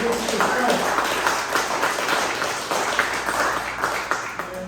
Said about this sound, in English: Another round of applause for Mr. Cassell.